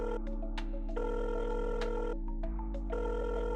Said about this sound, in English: it actually rang 3 times before cutting off